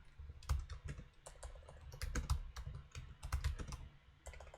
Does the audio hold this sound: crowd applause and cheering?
no